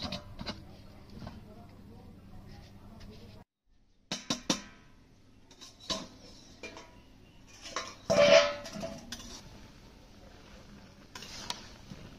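A metal basin is set down over a pot of taro boiling in hot water in a village kitchen, giving a clanking metallic knock with lighter utensil clatters nearby and a voice talking quietly.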